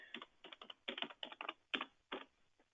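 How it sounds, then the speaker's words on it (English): Brisk bursts of keystrokes on a computer keyboard while login details are entered, quiet and close with short irregular pauses between clusters of taps. "I cannot talk and type at the same time."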